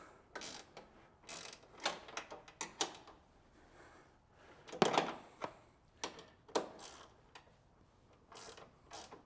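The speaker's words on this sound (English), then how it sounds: "Really impressed with these ratcheting wrenches." Osla reversible ratcheting wrench working a fastener, giving irregular bursts of sharp mechanical clicks and ratchet ticks, close and fairly quiet, with brief pauses between strokes and no talking.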